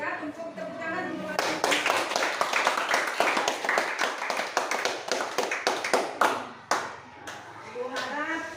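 Students in a classroom clap for two groups, a brisk burst of hand claps that starts after a voice and carries on for several seconds before tapering off as talk resumes.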